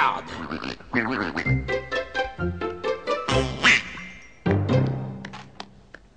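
A cartoon duck quacks repeatedly in quick, nasal bursts, loud and close, with a brief pause before a final flurry of quacks.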